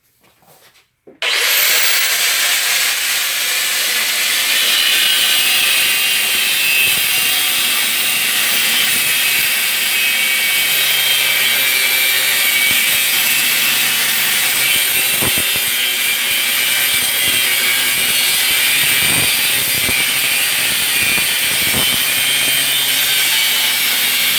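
A power tool cuts into the seat of a 1974 Honda CB350F motorcycle, starting abruptly and then running as a loud, continuous, close grinding whine with brief rough catches as it bites.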